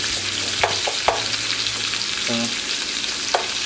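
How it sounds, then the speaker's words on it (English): Finely chopped shallots fry in a pan for a chicken chasseur, giving a steady close sizzle with a few clinks of utensils. A voice says a single brief word. "Now we're going to go in with the shallots just in the middle here."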